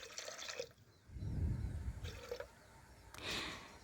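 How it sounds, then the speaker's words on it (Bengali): Water poured into a pressure cooker for cooking mung dal and potatoes, giving a few short splashy pours and trickles, fairly faint and close, with brief pauses between them. "আর দিয়ে দিলাম পরিমাণ মতন প্রেসার কুকারের মধ্যে জল"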